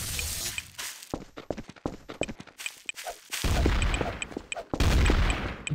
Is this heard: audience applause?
no